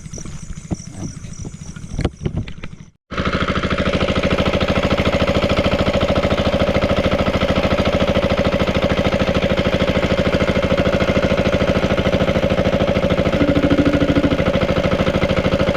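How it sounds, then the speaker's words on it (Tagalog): A diesel engine runs steadily at night, loud and close, as a continuous low drone. A few faint clicks come before a sudden break, and then the engine noise resumes evenly and continues without any voices. "tunog ng makina."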